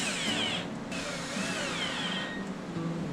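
A power drill drives small screws into wood for a custom bedpost, a whining motor hum rising and falling through several short runs, no speech.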